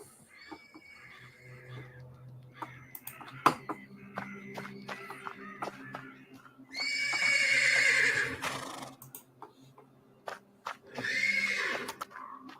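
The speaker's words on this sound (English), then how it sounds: "The persistent neighing of a horse can be heard from the stables." A horse in a stable neighs and whinnies insistently in a video game, two loud drawn-out calls rising over a low ambient drone, with scattered clip-clop hoof knocks and thuds in between.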